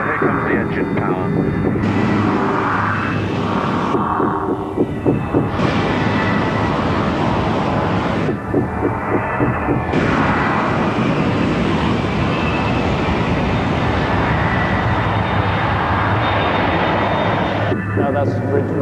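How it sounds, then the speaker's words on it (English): A loud, steady aircraft engine roar holds throughout, with broad rumbling and a droning hum that swells and shifts in pitch as power builds. "here comes the engine power"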